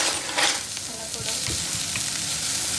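Garlic, green chili and onion sizzle and crackle steadily in a hot pan while being roasted for spicy Maggi masala noodles, a close, continuous frying hiss with occasional stirring.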